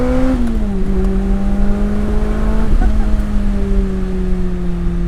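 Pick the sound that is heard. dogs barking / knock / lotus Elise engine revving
lotus Elise engine revving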